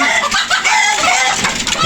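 Egg-laying farm hens cluck loudly and close by in a short burst of repeated calls, overlapping one another with no talking.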